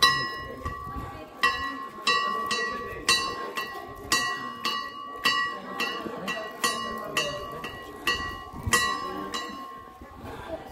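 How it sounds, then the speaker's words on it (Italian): Pilgrims arriving at San Gavino church in Aidomaggiore ring its church bell, striking it steadily about once a second so that each ringing tone overlaps the next, while voices carry on underneath. "E suoniamo la campana perché siamo sempre soliti suonare quando si arriva."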